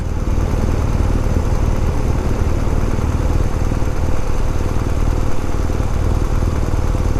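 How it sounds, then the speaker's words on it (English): A Subaru WRX's loud, rumbling exhaust drones steadily throughout, close by and unbroken, on a Montreal commute. "Oh, WRX with loud exhaust."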